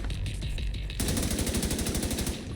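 Rapid automatic gunfire in The Division 2, a dense, loud burst of evenly spaced shots that takes over from a quieter stretch and keeps going close up.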